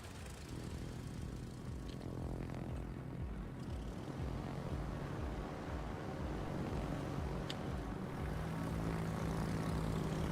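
Steady droning propeller aircraft engines in the World of Warships naval combat game, a continuous loud hum lasting throughout with no pauses and no talk.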